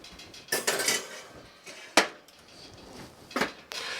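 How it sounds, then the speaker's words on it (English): A baking dish of stuffed mushrooms being set into an oven: a few separate clanks and metallic knocks, including a sharp clack from the dish or rack, close by and with no talking. "you want to place the baking dish in the oven"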